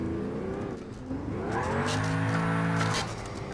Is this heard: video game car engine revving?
yes